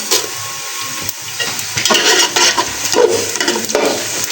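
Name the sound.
whole garam masala spices added to frying onions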